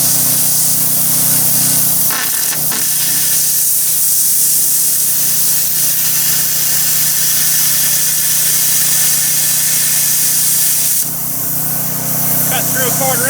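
A cheap plasma cutter slicing through quarter-inch steel gives a steady, loud broadband hiss and roar that runs continuously, with a brief dip near the end and some crackling at the close.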